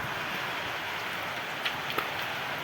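Steady rain falling outdoors on a village farm with buffaloes nearby, a soft even wash of drizzle with a couple of faint drops or knocks, no voices.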